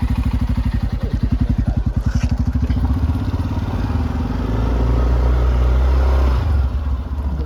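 A motorcycle engine runs close by with a steady, throbbing putter during a riding lesson, then the pitch drops and smooths as it shifts gear, with some rattling clatter.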